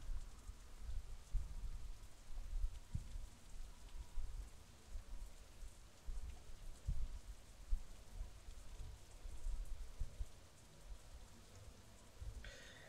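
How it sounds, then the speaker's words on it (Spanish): Steady rain in the visual novel Katawa Shoujo, a soft even hiss of falling drops with a few faint low patters, continuous and alone throughout. "La lluvia gana fuerza"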